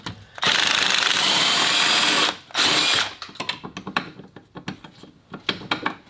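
A power tool spins off the last bolt on the rear axle of a 2000 Mustang GT, two loud bursts of whirring, ratcheting noise, then a string of sharp metallic clanks and clicks as the bolt and tool are handled nearby.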